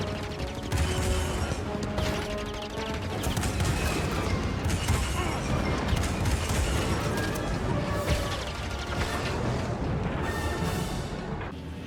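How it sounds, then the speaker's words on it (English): Blaster cannons fire in rapid, dense volleys in Star Wars Jedi: Fallen Order, a loud sustained barrage of crackling shots and crashing impacts. "That's the blasters. So that fires the cannons."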